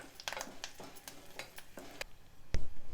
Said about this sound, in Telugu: ఒక్క రెండు నిమిషాలు మునగాకు వేగనివ్వాలి